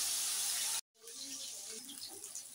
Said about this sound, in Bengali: টক হবে তাই একদম কড়া করে মাছগুলো ভাজবো না, হালকা ভাজবো।